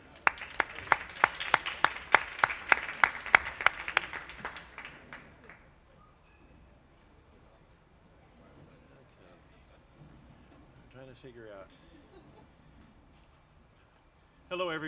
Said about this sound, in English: please welcome a round of applause for David Stanton.